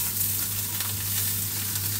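Vegetables for pancit stir-fry in hot oil, a dense, even sizzle heard up close with a steady low hum underneath and no talk.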